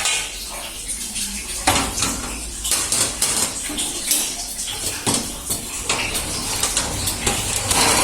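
A chiffon cake pan lifted out of the oven, loud metallic clanks and scrapes of the pan against the oven rack with rattling kitchen clatter throughout.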